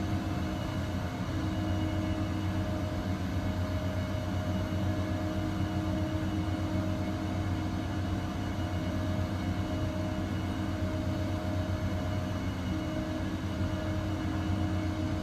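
An XCrafts ERJ 145 regional jet cruising at about 3,000 feet in the X-Plane 11 flight simulator, with a steady, unbroken engine roar and cabin rumble holding at an even level throughout, with no speech.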